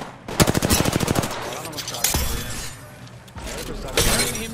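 Rapid automatic gunfire in the Apex Legends video game cracks an enemy's shield, with a sharp glassy shatter, followed by more bursts of shots and a voice talking over the action.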